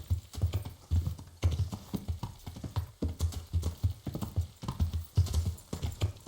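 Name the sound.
horse clip-clop in the video game Kingdom Come: Deliverance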